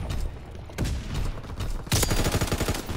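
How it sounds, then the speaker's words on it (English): A rapid anti-aircraft salvo in the World War II shooter Call of Duty WWII, with scattered shots giving way to a loud, dense burst of repeated booming fire in the second half. "Anti-aircraft salvo commenced."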